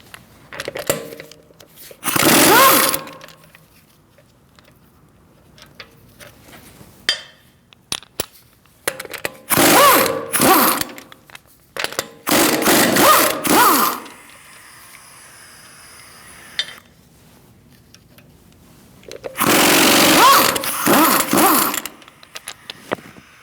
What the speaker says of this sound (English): Using a 17mm socket, we're going to remove our wheel.